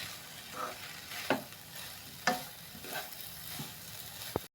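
Vegetables frying in a pan for vegetable biryani as masala powders are stirred in, with soft sizzling, a few sharp clinks of a spoon against the pot, and scraping sounds, close and fairly quiet with no talking.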